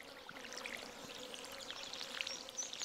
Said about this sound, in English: I do need to water the corn